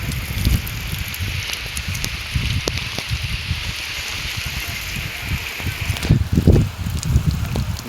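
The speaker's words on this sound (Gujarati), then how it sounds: "ફૂલે ફૂલ વરસાદ આવે છે." Heavy rain pouring over farm fields in the Gir area, a continuous hiss with scattered drops and low rumbling gusts of wind close to the microphone, no talk.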